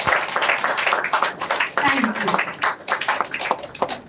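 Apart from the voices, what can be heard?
audience applause for children's performances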